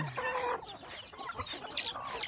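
Chickens raised free-range on a Filipino farm cluck and squawk in a busy, continuous chorus at feeding time, close and moderately loud, with scattered calls overlapping throughout.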